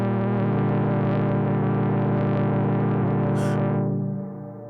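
Sustained, heavily distorted electric guitar chord drones under a crunchy, glitchy 'broken' effect from a Hologram Chroma Console pedal, then cuts off near the end, leaving a faint fading tail.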